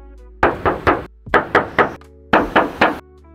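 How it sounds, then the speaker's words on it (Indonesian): Knuckles rap on the silver painted body panel of a 2015 Toyota Avanza in three quick groups of three, each sharp hollow knock ringing briefly, close and loud with no voices. "kita tes ketok dulu"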